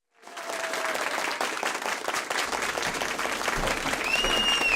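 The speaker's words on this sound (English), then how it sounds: "Ladies and gentlemen, please give a warm round of applause" A studio audience breaks into a warm round of applause to welcome the host of a banana bread cooking show; the dense, steady clapping starts suddenly and continues loudly throughout.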